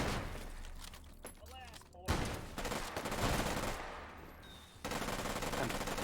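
Rapid bursts of automatic gunfire from a player mag dumping while clearing in a competitive shooter match, with dense clustered shots, a brief pause, then renewed sustained firing mixed with game effects and commentary voice.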